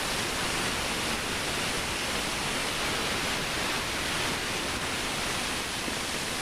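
Whole spices and two bay leaves sizzle in hot oil for a vegetarian potato-paneer curry, a steady, dense frying hiss that holds evenly throughout with no talk over it.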